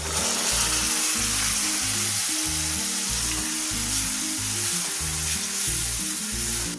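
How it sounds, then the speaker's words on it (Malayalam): Cooked dal hits a hot pan of onion, crushed chili and turmeric, raising a loud, steady sizzle and frying hiss, close and continuous with soft stirring beneath. "ഇതിലേക്ക് വേവിച്ച് വെച്ചിരിക്കുന്ന പരിപ്പ് ചേർക്കാം."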